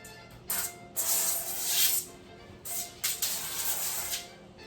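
Several short, close bursts of aerosol avocado oil spray hiss onto vegan chickpea meatballs, in quick bursts with brief gaps between them.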